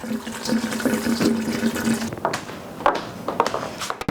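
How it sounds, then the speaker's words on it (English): Cold tap water runs over cooked lasagna noodles in a kitchen sink, a steady splashing rush with shifting patter and a few clunks as the noodles are handled, close and moderately loud. "I'm going to rinse it in cold water"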